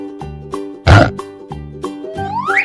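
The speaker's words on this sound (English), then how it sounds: "Pig." A pig in a 3D animal slide video game gives a loud, close grunting oink over bouncy rhythmic game music, followed by a rising sliding tone.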